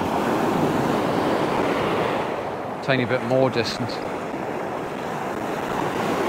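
Sea waves breaking on the beach at Druridge Bay, Northumberland: a continuous close roar of surf with wind buffeting the microphone and someone briefly speaking in the middle.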